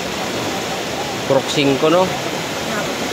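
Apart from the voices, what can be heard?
strong rushing floodwater during typhoon rain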